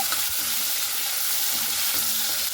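Cut potatoes frying in oil in a pan, a continuous bright crackling sizzle at moderate level with a few soft scraping knocks, no voices.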